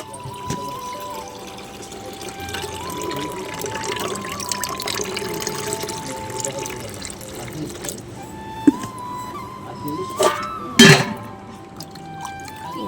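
Rice being washed in water in a home kitchen: steady pouring and sloshing of water with faint trickles, close and moderately quiet, a few sharper clinks and splashes near the end.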